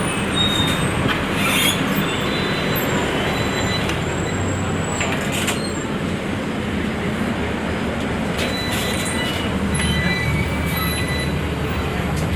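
TransJakarta bus pulling away from Tosari stop in Jakarta, a steady loud rumbling ride noise with rattles and occasional high squeals, heard from inside the cabin without talk.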